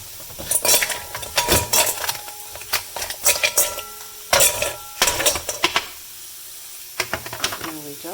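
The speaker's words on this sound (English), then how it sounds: "So we're going to fill the bowl with ice and then put some cold water in it." Ice cubes are dropped into a bowl in a home kitchen, a series of close, bright clinks and clatters arriving in irregular bursts, with brief pauses between handfuls.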